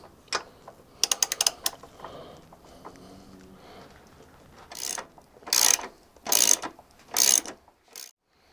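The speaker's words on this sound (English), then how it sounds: "I'm going to loosen off these two bolts under here, starting with the one that's nearest to me." A ratchet loosening seat bolts on a Cub: bursts of sharp, close ratcheting clicks, first in a quick flurry, then several separate strokes after a pause, with quiet handling noises between.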